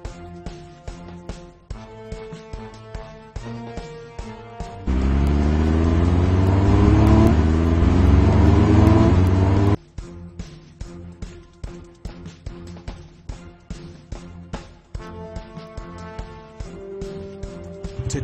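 Fire trucks in a children's video game rev their engines in a loud, dense, rising roar lasting about five seconds, framed by bouncy rhythmic game music before and after.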